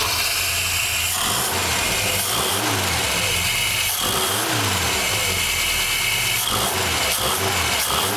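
A Volvo Amazon P130 nicknamed GT133 starting up for the first time, its engine running loud and close with a steady rough drone and a few rising and falling revs, alone with no talk.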